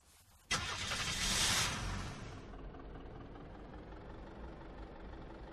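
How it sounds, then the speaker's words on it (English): Vehicle engine in the video game Unturned, a sudden loud start that swells into a steady driving rumble and settles to a continuous, moderately loud hum. "Let's drive. Might as well see how this now overly weighted vehicle maneuvers."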